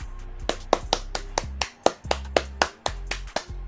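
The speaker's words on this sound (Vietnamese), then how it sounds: "Vỗ tay" Sharp hand claps ring out one after another at an irregular pace, close and fairly loud, with a low steady hum beneath them and no talking.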